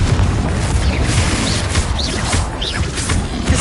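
Confringo fire spell explosion in the Hogwarts Legacy video game, a dense booming roar of blasts and crackling bursts that stays loud and constant throughout.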